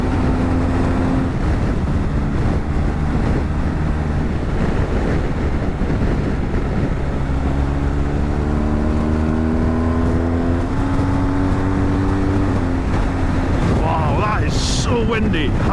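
Constant heavy wind buffeting from a motorcycle, a BMW GS, riding a lap of the Isle of Man TT course, loud and steady throughout with the engine droning beneath and no talk.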